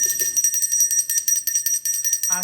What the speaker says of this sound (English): I'm gonna go ahead and ring my bell